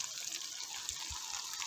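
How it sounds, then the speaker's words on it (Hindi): Water is poured into a pan of browned potato and pea keema for an Old Delhi style dish, a steady soft splashing pour heard close up with no talk over it. "अब इसके अंदर यहाँ पे थोड़ा सा पानी शामिल कर देंगे।"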